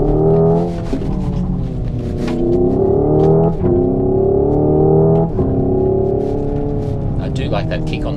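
A 2024 Hyundai Ioniq 5 N electric car accelerates hard with simulated gear changes: a loud, synthetic engine-like drone climbs in pitch, then briefly dips at each of about four shifts. People talk over it throughout.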